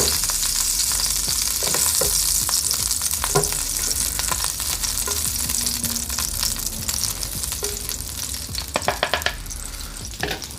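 Sausage and potatoes browning in a skillet give off a loud, dense sizzle with popping spatters and occasional scrapes and clacks from a utensil turning them.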